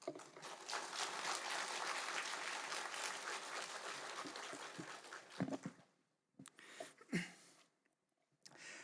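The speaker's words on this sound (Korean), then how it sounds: "큰 박수로 환영하겠습니다" Warm applause from a church congregation at Sunday worship, welcoming a guest pastor; steady clapping for about five seconds, then thinning to scattered claps and a few soft noises before fading out.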